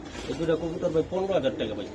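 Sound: green-neck racing pigeon cooing

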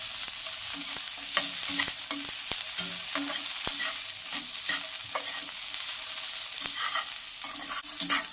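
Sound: garlic cloves roasting in a pan

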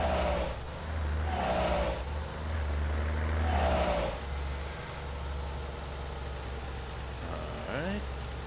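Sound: tractor gear shifting in Farming Simulator 19 video game

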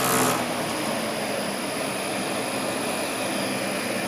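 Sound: single-phase motor driven by Sanyu inverter at reduced speed

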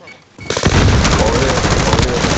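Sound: sniper rifle gunfire in video game Call of Duty Warzone

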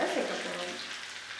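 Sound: tempering frying in oil for goat intestine curry

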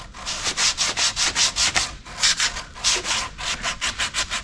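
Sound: sanding filler smooth on fiberglass

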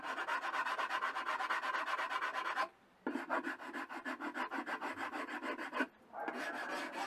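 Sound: sanding carved walnut wood

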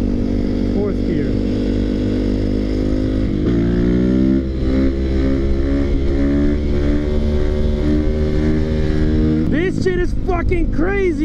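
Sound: Yamaha WR450 motorcycle revving, power wheelie in fourth gear

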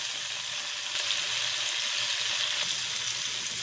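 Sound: garlic and onions sizzling in a pan

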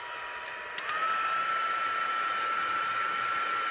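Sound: heat tool drying sprayed ink on a card

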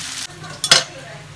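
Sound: chowmein noodles frying with vegetables in a pan

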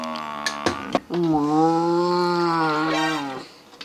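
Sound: voice imitating a cow mooing

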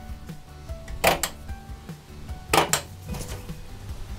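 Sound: trailer cabinet doors and drawer being opened

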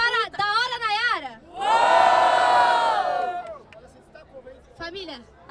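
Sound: crowd cheering at a rap battle

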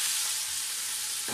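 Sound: meat added to frying garlic and onion

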